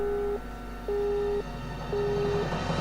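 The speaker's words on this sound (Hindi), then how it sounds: "फोन बंद हो गया अली" A telephone disconnected tone repeats: three evenly spaced steady beeps with short gaps, clear over a low background hum.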